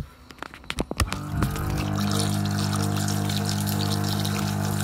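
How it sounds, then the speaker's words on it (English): Tap water runs into a sink: a few clicks and knocks of the handle, then a steady, fairly loud gush of flowing water that continues to the end with no talk. "Now, I just need to turn on the water."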